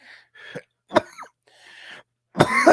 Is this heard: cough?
yes